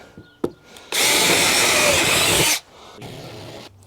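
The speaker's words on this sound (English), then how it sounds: "I'm going to go ahead and drill another hole right here" A power drill whirs loudly and steadily for about a second and a half, starting and stopping abruptly, with a few knocks and faint handling noise around it.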